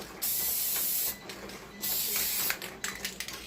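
Aerosol spray coats a rhinestone template in short, close hissing bursts separated by brief pauses. A few lighter clicks and rattles of handling follow near the end.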